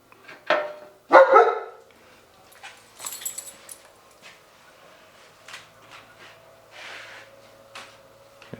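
A dog named Butchie barks at landscapers working outside a neighbor's house: a few sharp loud barks early on, then softer intermittent yips and whimpers fading into quieter rustling indoors.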